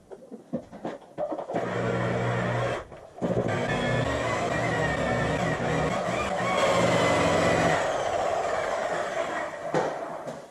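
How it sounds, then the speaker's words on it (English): An electric buffer with a blue polishing pad works the paint of a Harley-Davidson Street Glide motorcycle, its motor spinning up after a few knocks and then droning steadily and loudly with a brief dip, before winding down. "I'm using my buffer with the blue polishing pad on it"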